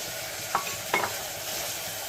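Green beans, carrots and potatoes frying in oil after softened tomato for vegetable pulao, a steady close sizzle with two brief stirring scrapes.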